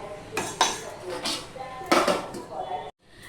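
A metal lid set back onto a cooking pot on a gas stove, a few clattering clanks and scrapes of metal on metal up close, ending in a brief silence.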